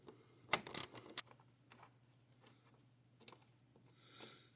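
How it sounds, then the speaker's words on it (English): A nut being tightened onto the shaft of a cheap dial wheel gives a quick cluster of sharp metallic clicks and ratchet-like ticks up close, then a few faint scattered taps in near silence. "We put the nut to the shaft. We give it the shaft. And we tighten this up."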